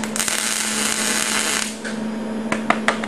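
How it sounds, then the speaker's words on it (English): Tack welding a steel tanker part: a steady crackling, sizzling arc burns for about a second and a half, then stops, followed by a few sharp taps and clicks close by. "Always make sure you do 3 or 4 little tack welds first"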